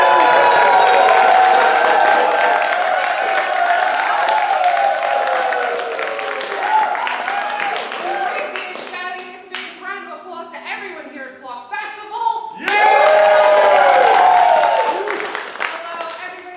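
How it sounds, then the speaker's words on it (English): Festival crowd at a film event applauds and cheers loudly, with screams and shouts over dense clapping that fades and thins in the middle before a second loud burst of cheering and clapping swells near the end. "Give the noisiest, screamiest round of applause that you can give"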